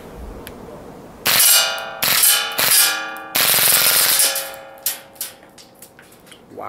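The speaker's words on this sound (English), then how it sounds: "we've flicked it to full auto. We'll do a quick burst and I might dump the mag" A WE Galaxy G series airsoft pistol fires a full-auto burst and then more shots: loud, close, sharp metallic cracks in rapid strings, then a few separate pops trailing off.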